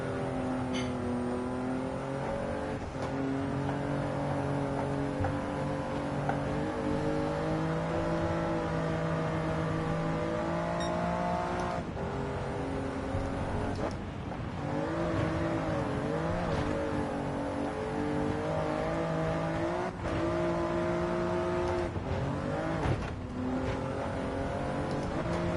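A race car engine in Gran Turismo 7 drones steadily at high revs, its pitch climbing and dropping repeatedly as the car shifts through gears, loud and continuous with no talk.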